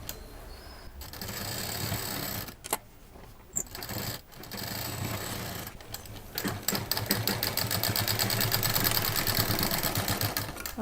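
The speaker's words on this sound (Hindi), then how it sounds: "अब ये जो ऊपर का एरिया है इसको हम सिल देंगे" A sewing machine stitches closed the top edge of a homemade office bag, its needle clattering in fast, steady bursts broken by short pauses, then running continuously and louder toward the end, close to the microphone.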